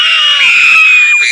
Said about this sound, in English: stop screaming in my ear